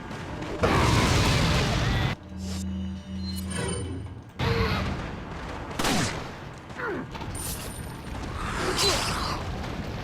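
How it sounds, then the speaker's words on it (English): In Resident Evil 4, a flame grenade bursts with a loud whooshing blast, followed by fiery roaring, mechanical clanks and further booming gunfire-like impacts across the scene. "Here comes a flame grenade."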